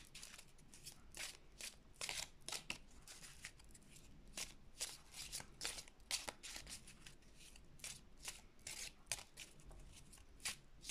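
Tarot cards are shuffled by hand in a rapid series of soft, crisp riffling bursts, close and quiet, continuing in an uneven rhythm with no talking.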